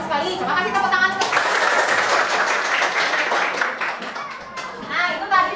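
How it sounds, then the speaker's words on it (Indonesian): Brisk applause from a sixth-grade elementary school class, with children's voices briefly before and after the clapping. "Coba kasih tepuk tangan untuk"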